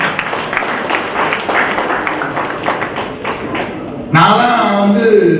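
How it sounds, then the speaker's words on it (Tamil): An audience claps for Lions Club members at a new office-bearers' installation ceremony in Thuraiyur, a dense patter of hands lasting several seconds, with a louder tonal sound cutting in near the end. "ஒரு பெரிய கைத்தட்டல் கொடுங்க அவங்களுக்கு"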